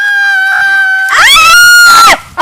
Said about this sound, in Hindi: अरे हाँ मोबाइल में रिंगटोन बाजल है।